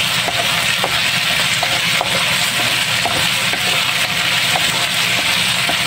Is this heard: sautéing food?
yes